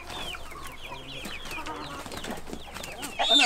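Chickens cluck and chirp outdoors in a flock that forages on grass by day, a steady run of short repeated calls over background noise, with faint voices nearby.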